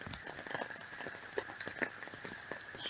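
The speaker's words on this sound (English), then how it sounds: "So much goddamn rain." Heavy rain pouring down steadily, a dense continuous patter with occasional sharper drops and splashes standing out, fairly close and unbroken throughout.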